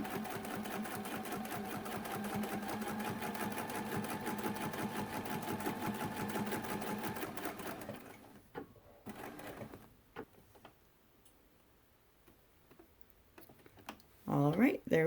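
A sewing machine with a quarter-inch foot stitches a quarter-inch seam in a quilt block, a rapid steady close whir for about eight seconds, then it stops and soft handling noises and a brief voice follow.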